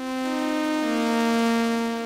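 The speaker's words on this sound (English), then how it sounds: "Sawtooth sounds like this." A sawtooth wave oscillator on a synthesizer plays a single sustained bright, buzzy tone rich in harmonics, heard alone at steady volume for about two seconds.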